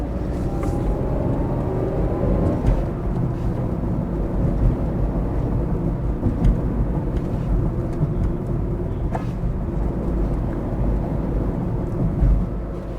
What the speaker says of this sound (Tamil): ஸோ நல்லா ரெவ் ஆகி காட்டுது இது.